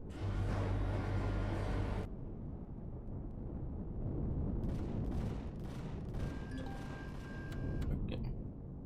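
Gunfire in the space survival game Empyrion Galactic Survival: a loud, dense barrage cuts off abruptly, followed by rumbling and a fresh burst of rapid crackling shots, with no voices.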